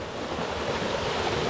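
Continuous broadband rush of the Zorro waterfall in a lush jungle, steady and fairly loud, close by, with no voices over it.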